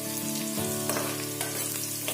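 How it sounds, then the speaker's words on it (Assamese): Onion, green chilli and a little cumin frying in oil before okra is added, a close, steady crackling sizzle with occasional louder bursts and a faint hum beneath. "ভেন্দি ভাজিবলৈ আমি পিঁয়াজ, কেঁচা জলকীয়া আৰু অকণমান জিৰা ভাজি লৈছোঁ"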